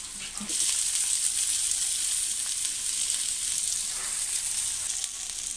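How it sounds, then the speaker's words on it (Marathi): Chopped onions frying in hot oil with cumin seeds give off a steady, loud, close sizzle that holds evenly throughout, with a brief clink near the start and no talking. "दोन कांदे आपण इथे कापून घेतलेले आहेत ते तेलामध्ये व्यवस्थित परतून घेऊया"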